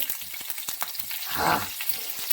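Curry leaves, chopped green chillies and asafoetida hit hot oil for a Marathi tempering, a short crackling sizzle with sharp pops and one brief swelling burst, close by with no talk.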